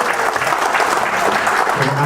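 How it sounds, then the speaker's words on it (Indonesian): Audience applause for Dr. Muhammad after a religious moderation lecture at a university gathering, steady dense clapping throughout with a voice faintly audible underneath near the end. "Sekali lagi tepuk tangan untuk Pak Dr."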